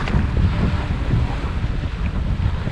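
Steady wind roars across a sailboat at sea, a continuous loud rush with buffeting on the microphone and a broad low rumble that may include water against the hull.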